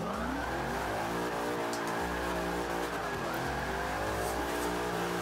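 A Cobra 427 in Forza 5 revs hard, its V8 engine droning and rising in pitch while the tires squeal as the rear end slides out. The sound is loud and continuous, with no talking.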